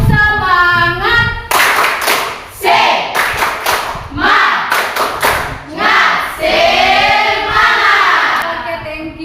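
A school class stands and performs a rhythmic spirit clap, loud close bursts of many hands clapping in quick patterned sets, broken by shouted group voices and chanting between the clapping runs.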